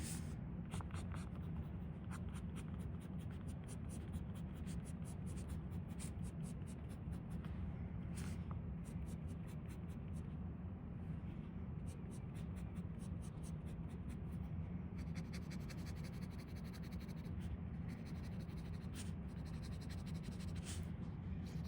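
A medium-nib fountain pen scratches steadily across paper, a soft continuous writing sound over a low background hum throughout.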